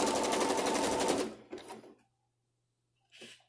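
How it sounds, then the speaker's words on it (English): A sewing machine runs in a fast, steady burst, zigzag stitching a chenille pipe cleaner into a cloth face mask seam, then slows with a few short whirs and stops, followed by a brief rustle of fabric. "I am sewing within the seam allowance here"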